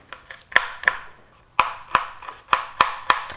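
A knife chops a large onion into small cubes on a cutting board. About eight crisp, close strikes come in quick pairs and bursts, with no talking.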